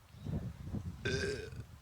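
A person lets out a loud, drawn-out burp with a rough, croaking tone lasting about half a second, preceded by a few lower gurgling belches, close to the listener.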